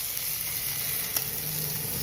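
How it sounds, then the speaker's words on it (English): Bacon sizzles steadily in a frying pan, a dense, even hiss of frying fat that stays close and continuous throughout, with one faint brief tap partway through and no talking. "You know bacon doesn't take long to cook. So we got it sizzling."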